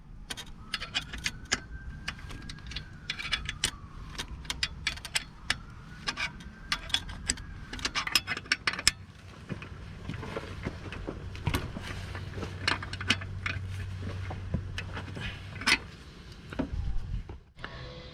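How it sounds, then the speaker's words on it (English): A 16mm spanner tightening the top front alternator bolt on a Peugeot 407 / Citroen C5 2.0 HDI, with scattered metallic clicks and ratcheting taps, a faint scrape and light handling knocks nearby, without speech. "inserting top front bolt, 16mm bolt in the top front of alternator and doing it up with a"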